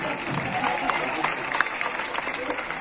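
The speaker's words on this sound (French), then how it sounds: "Et vous applaudissez." Audience clapping at a film team's appearance in La Valette, with dense, uneven applause and sharp individual claps throughout, mixed with crowd voices and chatter.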